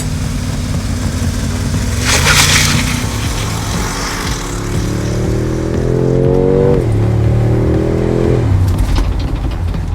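A 2025 Mercedes-AMG G63 with a 9-speed dual-clutch transmission and four-wheel drive accelerates hard, its engine note climbing through rising gears with a clear shift before pulling again, loud and close with no talking.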